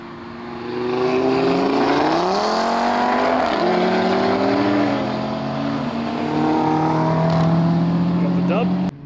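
A 1000-horsepower Audi RS3 race car revs and accelerates hard at a roll-racing event, its engine note climbing through gear changes in a loud, sustained roar that fades somewhat near the end.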